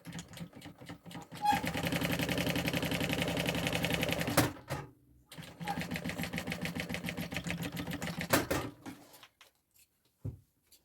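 A sewing machine stitches a draped handbag's lining in two sustained runs split by a brief pause, its fast mechanical whir close and even, with a few small clicks at the end.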